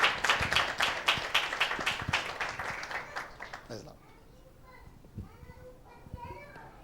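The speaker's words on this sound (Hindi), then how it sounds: "एक जोरदार ताली देंगे परमेश्वर के नाम की महिमा के लिए" A congregation at a Hindi-language church service breaks into loud, rapid clapping with some children's voices mixed in, the applause dying away after about four seconds into a quieter room with scattered taps.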